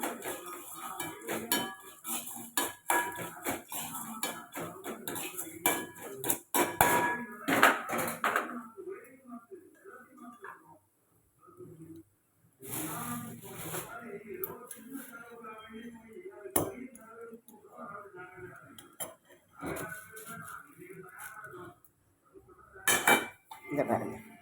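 Puffed rice with chilli powder and spices being roasted in a pan over low heat, with a metal spoon clattering and scraping against the pan in bursts, interspersed with a person talking nearby.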